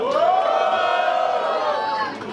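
Crowd at a rap battle in Londrina roaring for Cássio's rhymes, a loud sustained mass of voices yelling and cheering that eases slightly at the end.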